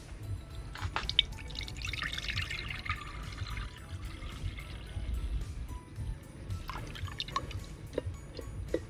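Milk for eggnog pours outdoors in the bush, a low, steady liquid trickle with scattered drips running for several seconds, moderately close and fairly quiet.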